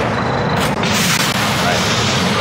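A cannon fires in the first-person tower defense game Sanctum 2, with heavy booming blasts and bursts in dense, continuous game noise, and a voice talks throughout.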